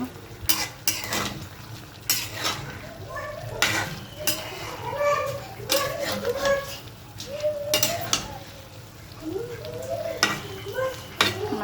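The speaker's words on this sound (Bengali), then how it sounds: "একটু নেড়ে দেব" Fried cumin is stirred into an egg and potato curry, a spoon scraping and clinking against the pot in uneven strokes over a soft sizzle, close by, with background voices.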